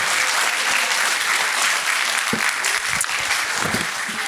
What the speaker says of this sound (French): C'était Estelle Ribet et on l'applaudit, mais de ouf